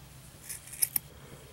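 Scissors snipping through yarn doll hair being trimmed shorter, two quick close snips in a quiet room.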